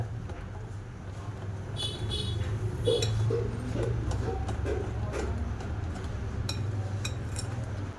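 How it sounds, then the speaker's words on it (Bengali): Mango cake batter being stirred in a bowl: faint, scattered clinks and taps of a utensil against the bowl with a soft background hum. "দিয়ে এবার ভালো করে একটু মিশিয়ে নেব ব্যাটারটা।"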